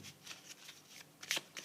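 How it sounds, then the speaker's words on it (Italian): Tarot cards are handled and laid down, giving faint papery swishes and a few crisp flicks near the end, quiet and close. "Adesso ti metto questa carta"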